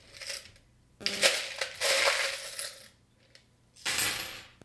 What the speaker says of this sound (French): j'ai oublié de brasser les charms un instant